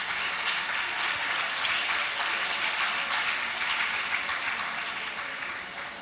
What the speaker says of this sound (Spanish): Démosle un aplauso a esta gente porque no tiene Facebook.